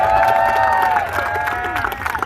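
A crowd at a lumberjack timber show cheering and whooping loudly, with a sustained whistle-like yell over the mass of voices, close and continuous.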